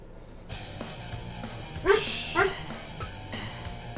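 A dog indoors gives two short, fairly close barks or yips about half a second apart, over a quiet room background with some soft knocks.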